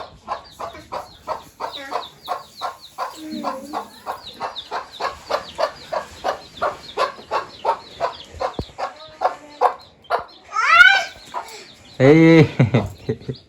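A mother hen clucking steadily over her chicks in a village yard, the rapid rhythmic clucks close and continuous, with a couple of louder squawking bursts near the end and people talking quietly in the background.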